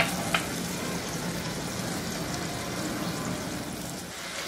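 Minced ginger and garlic fry in hot oil for a chicken and spring onion stir fry, giving a steady, close crackling sizzle throughout, with one brief sharp tick near the start.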